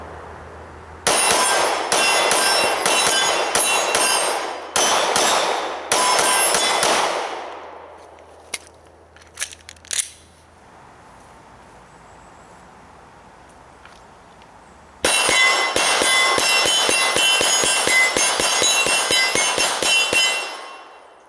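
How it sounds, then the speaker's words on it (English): A Gen 4 Glock 19 fires in rapid strings of sharp shots with ringing clangs from steel targets, in two long volleys separated by a quiet pause with a few scattered metallic pings. "we've got the Gen 4 Glock 19, and we're just going to do some fast fire"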